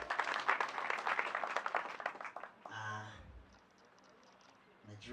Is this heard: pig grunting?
no